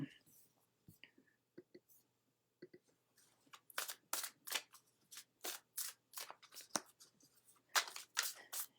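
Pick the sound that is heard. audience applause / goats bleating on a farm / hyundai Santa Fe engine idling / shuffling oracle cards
shuffling oracle cards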